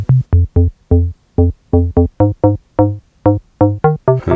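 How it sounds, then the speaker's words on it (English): A house-style FM synth donk bass built from two sine waves bounces through a rhythmic run of short, plucky, hollow notes, close and alone with crisp gaps between hits. "this way you get that classic donk bass"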